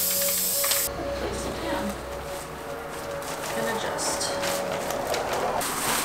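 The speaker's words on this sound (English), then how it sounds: "Spray the Smart Shield." Smart Shield spray being misted onto wool for blackout van window covers, with a steady hissing spray under ongoing talk, starting near and loud before settling into a continuous spray.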